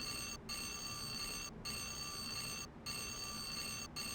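An alarm in the video game Dark Seed II keeps ringing with a steady, shrill electronic tone, cut by short regular gaps roughly every second, with no voices over it.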